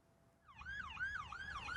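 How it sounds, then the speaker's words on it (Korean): A police car siren wails in rising and falling sweeps as the car speeds along a highway in southeastern Kentucky, starting faint and growing louder and nearer over a low road rumble. "미국 켄터키주 남동부 지역의 한 고속도로에서 경찰차가 쏜살같이 지나갑니다."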